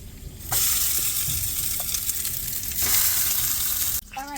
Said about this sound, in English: I've had to preheat our other skillet to place in our other 2 patties.